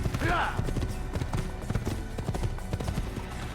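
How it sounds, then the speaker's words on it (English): Horse hooves galloping in an Assassin's Creed video game, a quick uneven clip-clop rhythm of hoofbeats with a brief whinny at the start, heard under people chatting. "It's like it's skipping, galloping. It's a very happy horse."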